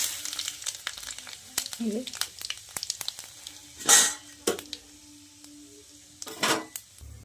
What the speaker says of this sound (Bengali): দেখতে পাচ্ছ তেলটা গরম হয়ে গেছে। 5 ফোড়ন, তেজপাতা